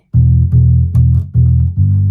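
Five low, sustained notes plucked one after another on bass guitar strings in an even rhythm, each ringing with a dull, rounded tone before the next begins.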